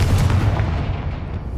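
Confringo blasting spell in the video game Hogwarts Legacy, a loud, low booming blast that rumbles heavily and fades out over a second and a half.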